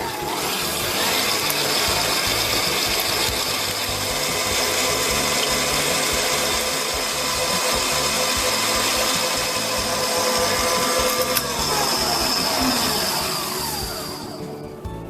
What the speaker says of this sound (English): Now you want to mix this or beat this until they're probably doubled in size or so they're quite fluffy.